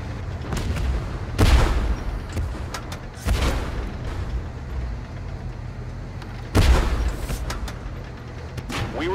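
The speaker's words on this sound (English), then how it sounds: "Bombardment!" Artillery bombardment in the tank video game Tank Force, three heavy booming impacts spaced a few seconds apart over a constant low engine rumble.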